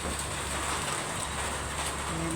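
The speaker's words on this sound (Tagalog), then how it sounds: "Ayan, nandiyan na naman ang ulan guys." Steady rain pouring down in an outdoor setting at a building project, a dense continuous hiss that fills the scene with no pauses.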